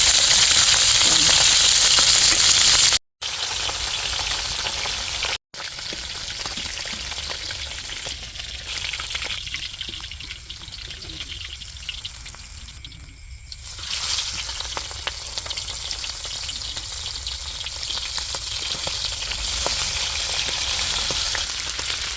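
Flour-coated fish frying in a pan, a loud continuous sizzle and crackle close up, briefly cutting out twice early on, then continuing steadily at a slightly lower level.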